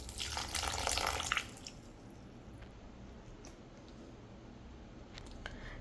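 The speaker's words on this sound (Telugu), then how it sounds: "కొద్దిగా గట్టిగా ఉంది, అందుకే నేనైతే ఇందులోకి వాటర్ యాడ్ చేస్తున్నాను." Water is poured into a thick oats vegetable uttapam batter, a splashing pour of about a second and a half, then quieter mixing and faint squishing.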